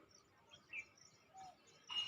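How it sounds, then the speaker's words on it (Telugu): Soft, distant birdsong in a quiet morning garden at sunrise, a few high chirps and calls spaced apart over faint background hush. "ఈ పక్షులు అరవటము"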